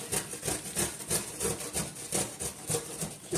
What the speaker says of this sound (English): Just going to grate it with a cheese grater.